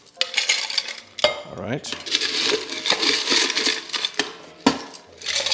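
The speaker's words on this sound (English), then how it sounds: "we're going to fill our shaker with some ice" Ice cubes clatter and rattle into a cocktail shaker for a fruit drink in a home bar setting, close and sharp in several bursts, while a person speaks briefly.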